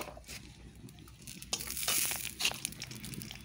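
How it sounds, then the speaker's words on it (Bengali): Dry red chili and bay leaf dropped into hot mustard oil: a soft crackling sizzle that swells and grows busier after a moment, with scattered pops, fairly quiet and close. "ফোড়নটা গরম হয়ে গেছে, আমি শুকনো লঙ্কা তেজপাতাটা দিয়ে দিলাম"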